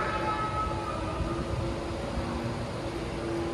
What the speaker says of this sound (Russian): Подъехал наш поезд.